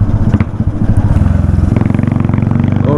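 A custom-built Yamaha SR400 single-cylinder motorcycle idles close by, its engine thumping in a steady rapid pulse with a low rumble and some mechanical clatter, loud and alone.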